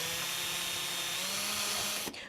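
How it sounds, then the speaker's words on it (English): Cordless drill running at high speed, driving a self-tapping screw into a homemade bottle bird feeder, a brief steady whine that cuts off abruptly at the end. "you can use your cordless drill"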